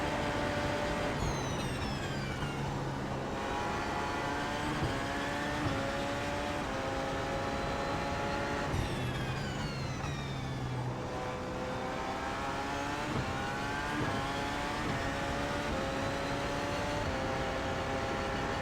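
A Porsche 919 prototype race car in the iRacing sim at Road America screams through repeated upshifts, rising pitch sweeps and downshifts cycling over and over, loud and continuous from the cockpit.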